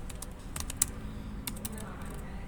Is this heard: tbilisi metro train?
no